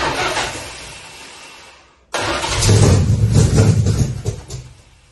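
A 1973 Dodge Charger engine being started, with a fading mechanical noise, a brief silence, then a sudden catch into a loud, rough, close idle that surges and wavers before settling.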